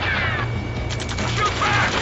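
Battle gunfire in the Ace Combat 7 video game: a dense, steady crackle of shots running the whole time under a low rumble, with voices shouting over it.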